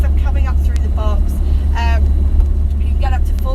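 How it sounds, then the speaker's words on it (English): A 1940s-50s Morris Oxford MO on cross-ply tyres gives off a steady low road rumble and drone while it is driven, running continuously beneath someone speaking over it. "if you can hear a little bit of road noise in the background of the video"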